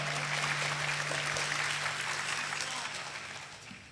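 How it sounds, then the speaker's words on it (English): An audience at a gun-rights panel discussion claps, a steady wash of applause that stays even for a few seconds and then gradually fades, over a low electrical hum. "clap it up"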